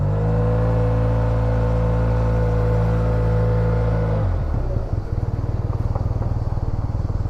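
A 2017 Yamaha T-max scooter runs with a steady, smooth engine hum that shifts into a lower, pulsing throb as it is ridden, close and fairly loud, with no talking.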